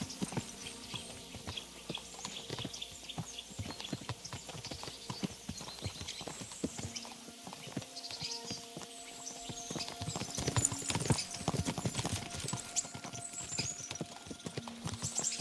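Horse hooves clip-clop steadily in Kingdom Come: Deliverance II, a brisk, continuous patter of hoofbeats on the ground with a faint background ambience, growing slightly louder toward the end.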